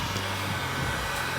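A very hot blow dryer runs in a steady, fairly quiet hiss and low hum as it warms glued-on emblems on the fuel tank of a 1977 Trans Am, with no voices over it.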